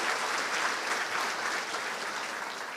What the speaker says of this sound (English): shall we give a big round of applause to all the new learning partners